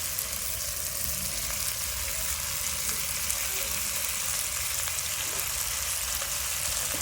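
Onion and tomato frying in a pan with roasted gram, poppy seeds and dry coconut, a steady, even sizzle that runs without a break at moderate loudness, with a faint low hum underneath and no talk.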